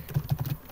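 Computer keyboard being typed on, four or five quick soft keystrokes in a short burst, close and fairly quiet.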